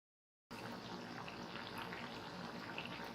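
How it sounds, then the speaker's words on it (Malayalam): Batter-dipped boiled eggs frying in hot oil for egg manchurian, a steady close hiss and sizzle that starts abruptly after a brief silence and holds even throughout. "ഇനി നമുക്കിതിലേക്ക് ഈ മുട്ട പാറ്റിൽ മുക്കിയത് നമുക്ക് ഓരോന്നോരോന്നായി ഇട്ട് കൊടുത്ത് ഫ്രൈ ചെയ്തെടുക്കാം"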